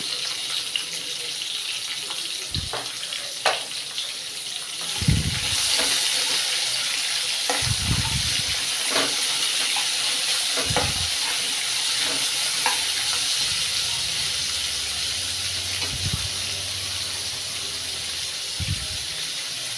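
Long slices of onion fry in hot oil, browning in a pan for wheat rava tomato upma. A continuous close hiss and sizzle runs throughout, broken by several dull knocks and stirs of a spoon.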